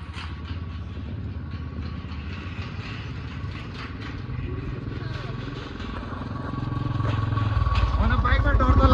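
A motorcycle rides along the Kaligandaki Corridor mountain road from Mustang toward Chitwan, its engine droning steadily and growing louder near the end, with rattling and wind, and people talk over it.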